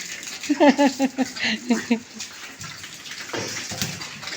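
Water splashing as a small pig is bathed, with a burst of short, tonal, voice-like sounds at first, then softer sloshing and dripping water nearby.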